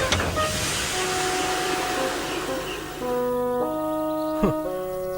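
Cartoon steam locomotive chuffing and hissing with a steady puffing rush of steam, overlaid by music with sustained tones and a brief whistle-like sweep near the end.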